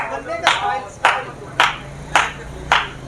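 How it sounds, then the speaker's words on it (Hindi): A cook in Lahore's Bhaati Gate slaps puri dough between his hands, five sharp clap-like smacks in an even rhythm about half a second apart, close by over a low street hum. "ये जो आपको तालियां बजाते हुए भाई नजर आ रहे हैं, ये असल में पूरी जो है वो थाप रहे हैं"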